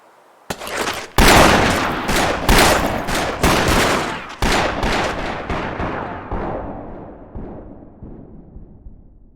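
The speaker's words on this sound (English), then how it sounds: "After the 30 seconds of shooting subsided, Frank and Tom McClurry lay dead on the stre" Gunfire erupts in a staged reenactment of the OK Corral shootout on a town street, with a rapid barrage of loud, close shots overlapping and echoing for several seconds before the reverberation slowly fades.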